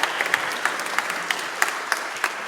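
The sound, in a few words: audience applause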